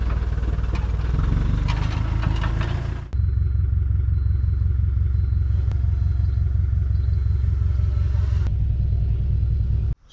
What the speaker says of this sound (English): I'm going to get the tractor and get it dragged into the yard